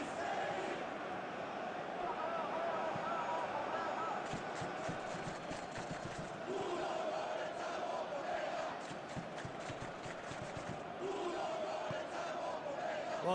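Football stadium crowd at a UEFA Europa Conference League match between Ludogorets and Servette, a steady loud roar of many voices swelling with cheers and shouts throughout, with no commentary over it.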